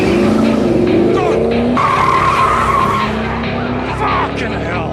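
Car tires skid and squeal loudly and continuously as a car makes a sharp right turn, the pitch sliding up and down over engine roar.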